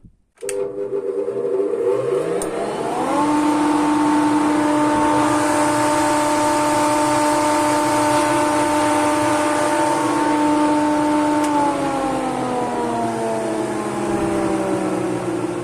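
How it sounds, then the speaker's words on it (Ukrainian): A hay cutter driven by a new 5.5 kW 220 V electric motor spins up with a rising hum, then runs at a steady, loud whine for over ten seconds before the pitch dips slightly near the end. "Коротше, така якби сінорізка. Хочете, чуть запущу, покажу вам."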